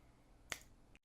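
A single crisp finger snap, close and fairly quiet, standing alone against a faint background hiss.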